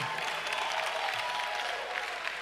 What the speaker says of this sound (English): This is not barrier-breaking applause.